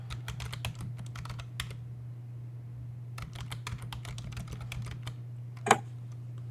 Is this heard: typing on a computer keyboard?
yes